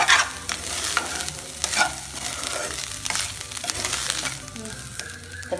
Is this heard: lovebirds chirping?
no